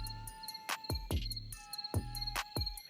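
Crickets chirp in quick repeated bursts, clear and fairly close, with a steady pulsing rhythm and no talking.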